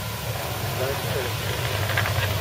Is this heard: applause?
no